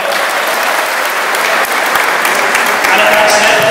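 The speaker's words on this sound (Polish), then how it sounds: "Wielkie brawo dla niego." An indoor crowd at a night-time mixed volleyball tournament in Żyrardów gives a sustained burst of loud applause for the co-organizer, with dense clapping filling the hall.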